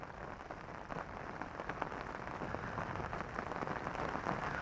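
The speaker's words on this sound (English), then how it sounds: "I'm not sure this rain's doing us any favours, because it is absolutely freezing." Rain falls steadily at Barston Lakes, a fishing lake, making a continuous soft hiss with dense pattering drops, even and fairly quiet throughout with no voices.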